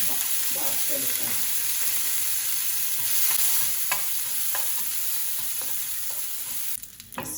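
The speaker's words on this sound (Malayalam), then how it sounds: "ആ നെയ്യിൽ തന്നെ ഒരു 10 കിസ്മിസ് എടുത്ത് വറുത്തെടുക്കാം" About ten raisins fry in ghee in a pan, giving a steady, bright sizzle with scattered light stirring clicks. A short louder rustle comes near the end.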